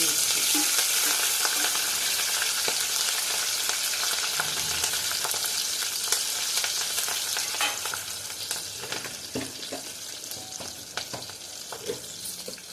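Mustard seeds frying in hot oil, a dense continuous sizzle with many sharp crackling pops spluttering throughout, close and fairly loud, easing slightly toward the end, no talk.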